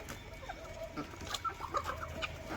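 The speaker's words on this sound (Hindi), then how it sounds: "ये मुर्गियां भी अपना दाना वगैरह खा रही हैं और पानी पी" Farmyard chickens clucking softly while eating grain and drinking water, ducks among them, with scattered short clucks over faint background noise.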